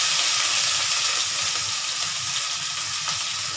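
Garlic and onion fry in a hot pan with a steady, close sizzle and crackle that holds at an even loudness throughout, with no voices over it.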